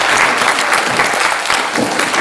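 A graduate conference audience at Dalhousie University gives a round of applause after a three-minute thesis talk, loud, steady clapping from many hands filling the whole stretch without any voices.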